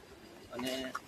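Pigeons perched on the temple roof at Naklang Dham, Lunal, give a short, soft coo over a low background murmur, lasting about a second.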